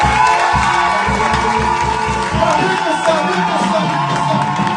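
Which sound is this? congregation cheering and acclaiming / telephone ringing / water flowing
congregation cheering and acclaiming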